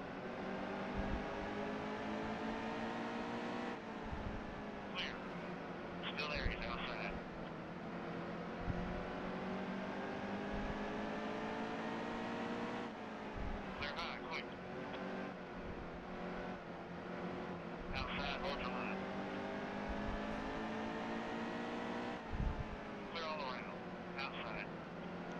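A race car engine drones steadily in the NASCAR Heat 2 racing game, a constant high-pitched whine that rises and falls slightly as the car laps, with someone talking over it at times.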